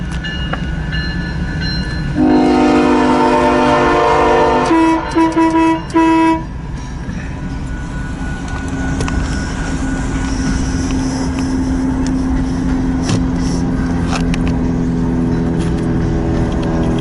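A freight train of empty cars rolls through Fremont, Nebraska. Several loud horn blasts sound early, then a steady rumbling and clanking of wagons continues as it passes close by.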